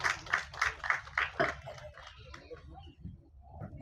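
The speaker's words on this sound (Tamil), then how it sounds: "ஒரு கைத்தட்டல் கொடுத்துடலாம் அவருக்காக ப்ளீஸ் எவ்ரிபடி" Audience clapping at a Tamil film album launch event on stage, a burst of applause that quickly fades into scattered claps and low crowd murmur.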